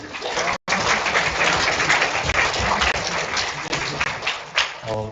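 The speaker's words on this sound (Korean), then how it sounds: "큰 박수로 맞이하도록 하겠습니다." An audience at a university networking-day guest lecture gives a speaker a big round of applause, dense and loud continuous clapping from a crowd filling the room, briefly cut near the start.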